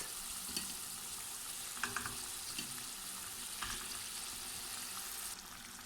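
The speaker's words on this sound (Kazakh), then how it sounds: "Енді осыға барлық котлеттерімізді бүйтіп салып, бір бұқтырып аламыз." Meat cutlets are placed into a pan of simmering water, giving a steady close bubbling sizzle with a few soft clunks and splashes as each piece goes in.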